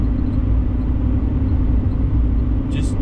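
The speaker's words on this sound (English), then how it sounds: "just give it a tiny bit of throttle and you can start hearing that turbo start to light" Stock diesel truck engine under light throttle with the turbo starting to spool, a steady close rumble that holds even and loud, with a brief faint whistle near the end.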